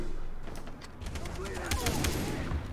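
Gunfire in Far Cry 3, a few sharp shots cutting through a dense, busy game soundscape with steady low rumble, while someone talks over it.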